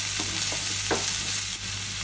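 Two small onions, finely chopped and salted, sizzle in hot oil in a pan with a steady, dense hiss, broken by a few soft stirring scrapes. The sound is close and continuous, with no voices.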